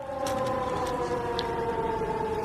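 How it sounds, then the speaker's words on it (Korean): A steady, sustained air-raid siren wails continuously at a constant pitch in Nanjing, loud and unbroken, with faint background noise beneath it. "그토록 기다렸던 사이렌이 울립니다"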